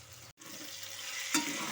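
Stirring mashed potato into a thick yogurt gravy with pointed gourd and slit green chillies in a pan, a steady soft sizzling and scraping close by with a brief pause and a louder scrape near the end.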